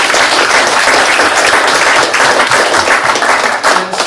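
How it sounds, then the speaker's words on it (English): Conference audience at a WebCongress New York panel breaks into loud, dense applause, many hands clapping close and continuous for a few seconds before tapering slightly at the end. "Applause, please."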